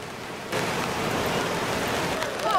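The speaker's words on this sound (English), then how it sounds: "it's not raining very hard" Light rain falls at a beach in St Ives during a Boxing Day sea dip, a steady close hiss of drops that starts abruptly and holds evenly for a couple of seconds.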